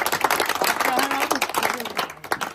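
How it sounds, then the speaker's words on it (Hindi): Audience at a Hindi-language public speech claps together in a dense, crackling burst that runs steadily for a couple of seconds, close and fairly loud, with a voice speaking over it. "आपके लिए ताली। फिर से बजे।"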